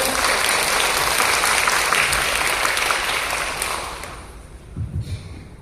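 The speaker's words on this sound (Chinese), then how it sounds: "下面让我们热烈掌声，有请老师开讲" An audience in a Shenzhen library lecture hall claps warmly to welcome a lecturer on Laozi, a dense burst of applause that slowly thins and dies away, followed by a brief voice near the end.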